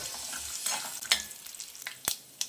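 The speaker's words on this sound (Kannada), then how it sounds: "ಇದನ್ನು ಶೇಂಗಾ ಸ್ವಲ್ಪ ರೋಸ್ಟ್ ಆಗೋವರೆಗೆ ನಾವು ಇದನ್ನು ಫ್ರೈ ಮಾಡ್ಕೊಳ್ಬೇಕು" Peanuts and mustard seeds fry in a pan, a soft sizzle broken by sharp crackles and pops at irregular intervals, close and fairly quiet.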